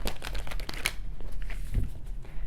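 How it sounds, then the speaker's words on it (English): Animal oracle cards shuffled by hand, giving a steady run of close papery riffling and crinkling with a sharper snap near the middle and a low bump toward the end. "I'm going to do one more shuffle."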